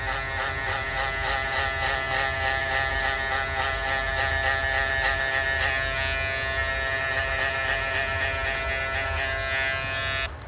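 Electric hair clipper fitted with a guard runs steadily while cutting a low fade, a loud close continuous buzz that hums evenly for the whole stretch with no speech.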